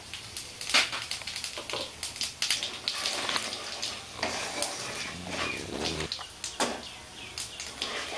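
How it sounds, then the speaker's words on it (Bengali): Whole cumin seeds spluttering in plenty of hot oil and ghee, the base for a Bengali raw jackfruit and prawn curry: a dense, busy crackle of quick pops and sizzling, fairly close, with no talk. "এবার আমি এতে জিরেটা দিয়ে দেবো গোটা জিরা।"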